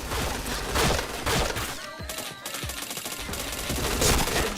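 Rapid bursts of automatic gunfire in a shooter video game, loud and close, with repeated overlapping shots and brief pauses between volleys.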